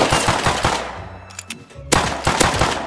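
In the video game Rust, an M92 machine gun fires in loud, rapid sustained bursts, breaking off briefly mid-clip before resuming, close and dominant.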